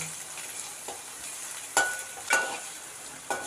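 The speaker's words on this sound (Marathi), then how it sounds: "चांगला कांदा भाजेपर्यंत ढवडत राहायचं ते" Onion and green chillies with curry leaves sizzle softly in a pan while a spoon stirs them, giving a few sharp scraping clinks over the steady hiss, close by.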